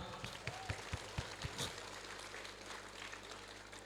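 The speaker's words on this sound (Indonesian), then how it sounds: "Tepuk tangan untuk kita semua" Scattered claps at an outdoor school flag ceremony, a few sharp near claps early then fading into a faint, diffuse patter against steady background noise.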